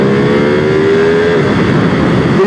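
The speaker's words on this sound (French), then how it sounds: "On va commencer par ce moteur qui ne change pas par rapport à celui de l'ancienne 959." A Ducati Panigale V2 with its Superquadro twin engine drones loudly on a race track, holding a steady rising note before the pitch dips briefly, close and alone without talk.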